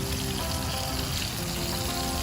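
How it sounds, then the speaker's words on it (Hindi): Fish fries on a hot tawa, giving off a continuous, even hissing sizzle like rushing water, close and unbroken, with no talking. "सिजलिंग।"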